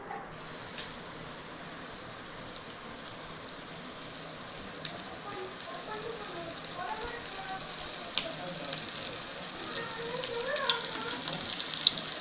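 Marinated bangda mackerel pieces frying in hot oil make a soft, steady sizzle with faint crackles that slowly grow busier, heard close with no speech.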